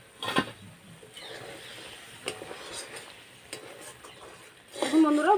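Masala being stir-fried in a pan for matar paneer, with soft scraping stir strokes and a low sizzle, and a brief voice at the end.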